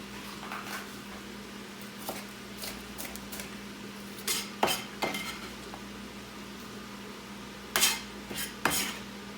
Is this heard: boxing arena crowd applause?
no